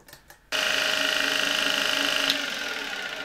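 Zelmer vacuum cleaner motor, fitted with two new brushes, switches on after a brief quiet start and runs at a steady, loud whine with a constant high hum and no talking.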